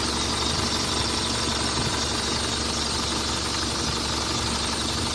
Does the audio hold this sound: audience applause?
no